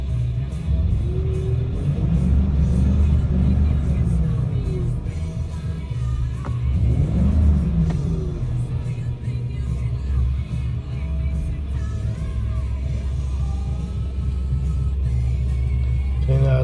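A 2008 Ford Expedition engine idles, then is revved to about 3,000 RPM and released, a low rumbling drone rising twice and settling back, heard close and steady throughout.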